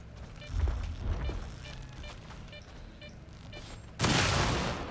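Heavy sniper rifle shots in S.T.A.L.K.E.R. 2: Heart of Chornobyl, a few sharp booming reports scattered over ambient game sound, with a loud broadband blast near the end.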